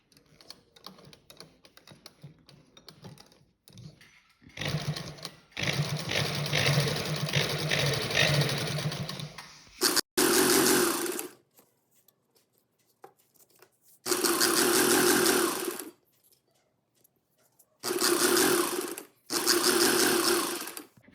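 A sewing machine stitches fabric on a salwar in several loud, fast, rattling bursts separated by quiet pauses, with softer handling sounds in the first half.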